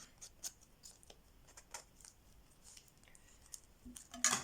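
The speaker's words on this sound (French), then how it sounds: "on va gratter un petit peu les contours avec les ciseaux" Faint, quiet scraping and snipping of scissors against paper card, in short irregular strokes.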